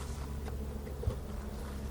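Honey bees hum in a low, steady drone near an open hive during an inspection, faint and continuous with a slight swell partway through, no voices over it.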